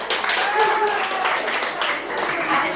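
Audience clapping for the girls at a secondary-school academic competition, a short burst of applause from a crowd indoors with voices mixed in.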